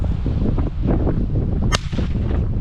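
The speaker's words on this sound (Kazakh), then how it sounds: "Осылай ату керек қой атқаннан кейін." A single-barrel shotgun fires once while duck hunting in autumn in Kazakhstan: one sharp, loud crack cuts through steady outdoor rumble and wind.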